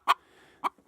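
Leghorn chickens scuffle in a laying box, giving three short sharp clucks, one then a pause and two more close together, loud and near with quiet between.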